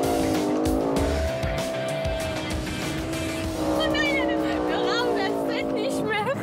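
A 550 hp rear-wheel-drive BMW drifts with a loud engine roar and sustained, wavering tire squeal that grows sharper in the second half, while a voice talks over it.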